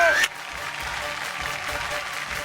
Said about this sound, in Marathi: जोरदार टाळ्या होऊन जाऊ दे जोरदार टाळ्या